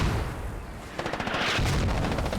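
Grenades burst inside a compound during a firefight in the video game Squad, a muffled rumble giving way to a quick cluster of sharp cracking blasts and a lingering rolling roar.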